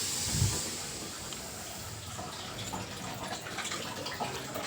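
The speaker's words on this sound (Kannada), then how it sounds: "ಇನ್ನು ಒಳಗಡೆ ನೀರು ಬರ್ತಾ ಆಗಿದೆ." Water flowing in from a household supply tap: a broad, steady hiss of running water with no pauses, moderate in level and unaccompanied by talk.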